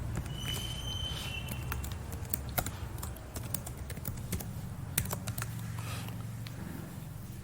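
Rapid keyboard typing during software UI test coding, a steady stream of close, crisp key clicks with occasional louder strokes and no voice.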